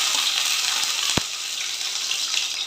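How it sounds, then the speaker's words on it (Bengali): Chopped green chillies fry in ghee over a low gas flame, giving a steady, close hiss of sizzling with one brief sharp click partway through and no voices. "গ্যাসের আঁচটা কমিয়ে এর মধ্যে আমি আস্তে আস্তে কাঁচা লঙ্কা কুচি"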